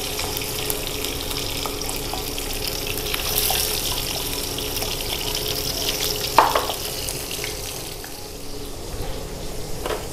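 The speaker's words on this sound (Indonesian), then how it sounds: "Lanjut goreng ayam, kasih tepung dan enggak meletus." Flour-coated chicken pieces frying in a pan give a steady, broad sizzling hiss throughout, with one brief sharp pop or clink partway through and no talking.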